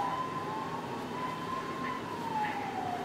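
A fire engine siren wails in a long, slowly sweeping tone over background traffic noise, moderately distant and steady.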